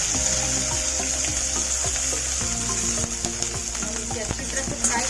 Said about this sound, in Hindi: हम इसे अच्छी तरह से फ्राई कर देंगे लाल होने तक